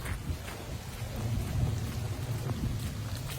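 Hard rain pours down steadily in a dense, continuous hiss with a low rumbling underneath, close and fairly loud, with no voices.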